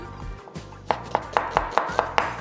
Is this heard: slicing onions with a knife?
yes